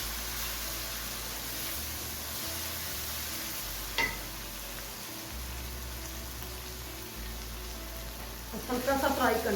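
Chopped ginger sizzling in a hot pan for a homemade baingan aloo curry, a steady low crackle with a brief clink around four seconds and louder spattering near the end, with faint background tones.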